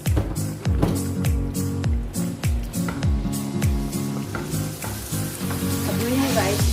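Rinsed basmati rice is stirred in a hot pot for chicken kabsa: loud sizzling with repeated scraping stir strokes in a steady rhythm, close and prominent, with no talk.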